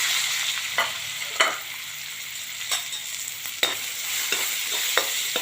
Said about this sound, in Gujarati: ચપટી રાઈ જીરું નાખું છું રાઈ જીરું સરસ ફૂટી ગયું છે